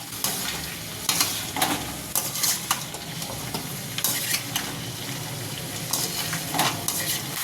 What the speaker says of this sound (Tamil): ஒரு 10 நிமிஷம் நல்லா கலரிக்கணும்.